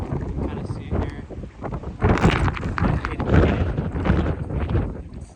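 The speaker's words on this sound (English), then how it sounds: "it's so windy" Strong wind buffets the microphone in heavy, rumbling gusts throughout, loud and close, at an outdoor geothermal sea bath pool in Húsavík, Iceland, during snowfall.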